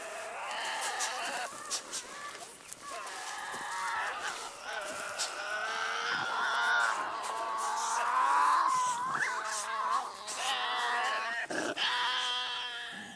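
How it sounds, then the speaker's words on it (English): Tasmanian devils in the Australian bush, loud harsh shrieks and wavering wails mixed with rasping growls, several animals calling continuously and overlapping close by. "the spine chilling shrieks and unearthly wails that echoed round the bush at night"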